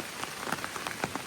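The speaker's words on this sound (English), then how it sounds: "it's definitely raining" Steady rain patters on surfaces outdoors in the mountains along the Appalachian Trail, a dense close hiss broken by irregular heavier drops, with no voices.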